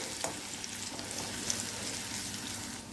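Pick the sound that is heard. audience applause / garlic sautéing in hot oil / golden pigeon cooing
garlic sautéing in hot oil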